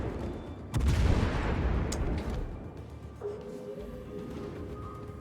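Naval guns fire in the World of Warships game, a heavy booming salvo that swells into a long rumbling roar and slowly decays, loud and close, with no talk.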